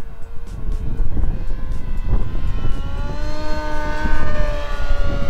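An FMS Beaver 2000mm giant scale RC model airplane flies overhead, its electric propeller drone rising and shifting in pitch as power is applied, loud and fairly close with wind buffeting the microphone.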